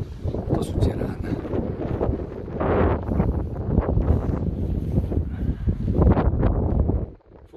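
Cold wind gusts across the Tatra mountains, buffeting the microphone with a loud, rough, continuous rush that swells and eases over several seconds.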